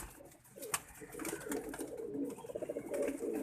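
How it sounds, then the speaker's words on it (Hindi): A Kasuri pigeon coos softly in a loft, low rolling throaty notes repeating in a loose rhythm at moderate distance over faint background noise. "ये वो कसूरी कबूतर जैसे भी गुटक रहा है"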